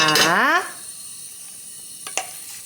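Minari pancake batter fries in plenty of hot soybean oil over high heat, giving a steady, bright sizzling hiss. A brief vocal sound opens it, and a couple of light utensil clinks come near the end.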